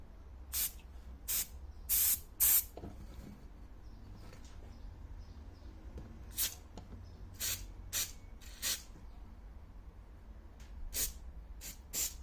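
An aerosol spray can hisses into the rear wiper mechanism of a BMW E87 in about a dozen short, sharp bursts, some in quick pairs, separated by quiet pauses over a low background hum.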